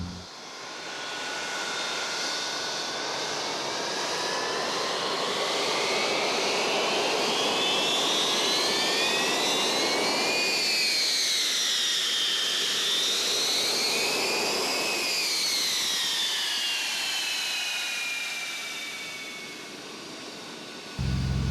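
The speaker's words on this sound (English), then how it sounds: "We have the 300 series engine on here, which is the more powerful engine" Avro Vulcan bomber jet engines, 300 series, roar steadily and loudly throughout during a fast taxi, a sustained whine that rises and swells midway before settling, with no voices.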